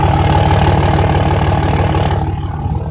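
A 3rd Gen Cummins diesel truck engine idles close by inside a shop, a steady low rumble with a regular throbbing beat that holds loud throughout and eases slightly near the end.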